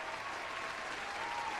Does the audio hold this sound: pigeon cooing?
no